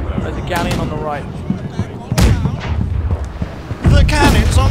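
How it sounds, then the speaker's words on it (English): Ship cannons boom in the naval video game Blackwake, with a few heavy shots spaced over the seconds while players shout commands over them. "The cannons on the starboard side!"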